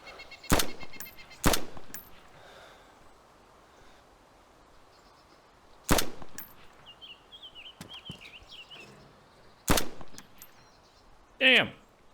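Loud sharp gunshots ring out in the video game DayZ, four or five single cracks spaced several seconds apart, with faint ambient noise and a short chirpy sound between them.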